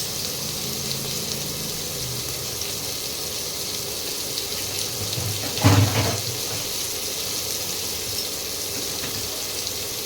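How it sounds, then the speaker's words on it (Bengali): Prawns coated in salt and turmeric fry in hot oil for a banana-flower dish, a steady broadband sizzle with one louder hissing burst midway, no voices. "তেলটা গরম হয়ে গেছে এবারে মাছগুলো ভেজে নেব নুন হলুদ মাখিয়ে রেখেছি চিংড়ি মাছ ভেজে নিচ্ছি"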